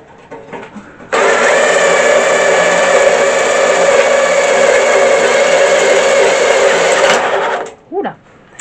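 A power drill bores through sheet metal on a Renault Clio 2 crossmember, a loud, steady high-pitched whine holding for about six seconds before cutting off abruptly, followed by a brief voice.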